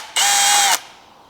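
A drill bit, 12.5 or 30 mm, bores a hole through a flat steel plate clamped in a vise, giving one steady, loud, high grinding whine of about half a second that stops abruptly.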